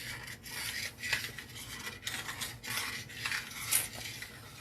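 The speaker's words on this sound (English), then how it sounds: "Let me stir this again." Jiffy cornbread mix being stirred in a two-cup mixing cup, a close, steady scraping and rubbing of a spoon against the cup in repeated strokes of fairly even rhythm, with no talking.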